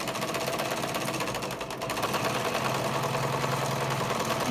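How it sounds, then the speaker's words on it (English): Sewing machine stitching through a sheet of paper runs with a steady, continuous motor whir and rapid needle chatter for the whole stretch, close and fairly loud, with no one speaking. "Make sure your presser foot's down as you're sewing."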